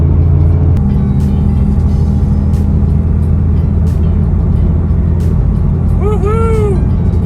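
A Porsche 997 Turbo with 111K miles on a North Carolina drive gives off steady, loud engine and road noise that holds an even level throughout, with a short warbling tone near the end.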